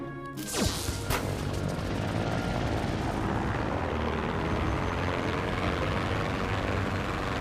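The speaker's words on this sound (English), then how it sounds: "We turn off the helicopter." Helicopter engine in the video game Trailmakers, a steady, loud whirring rotor drone running throughout after a sharp knock near the start, with no speech.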